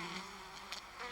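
Honeybees buzzing over wax combs inside a hive, a faint, steady, diffuse hum with a few brief brighter flickers of wingbeat buzz.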